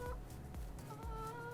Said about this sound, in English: Let's check our chickens.